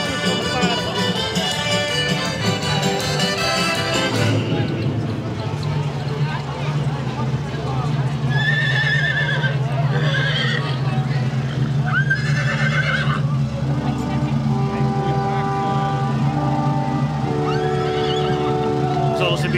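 Horses whinny and neigh at a Vastelaovend carnival parade in Meijel, with loud, repeated calls over steady crowd noise, brass music and nearby chatter throughout.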